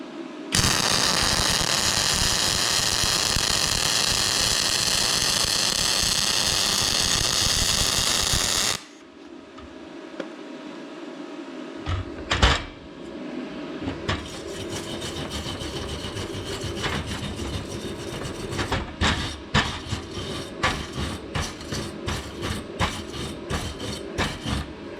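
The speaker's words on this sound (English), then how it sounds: "We'll do another weld" A Yes Welder YWM-200 MIG welder lays a bead on aluminum with a loud, dense crackling hiss that runs for several seconds and then stops abruptly, followed by quieter clanks and scraping.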